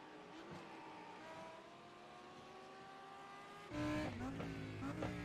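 Lamborghini Super Trofeo race cars run on track at the Red Bull Ring: a steady engine drone, then a louder car sweeps closer and revs hard near the end, with no talk.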